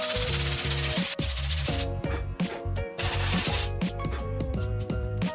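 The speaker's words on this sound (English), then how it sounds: "we will sand it down. It's dry, 80 grit sandpaper." Dried polyester resin on a surfboard ding repair is sanded with 80 grit sandpaper, making a steady, loud, close abrasive rasp that continues throughout with brief dips.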